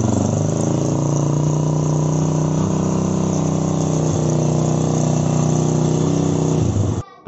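A Yamaha FZ-X motorcycle engine is held at raised revs in a loud, steady, sustained drone close by, then cuts off abruptly at the end.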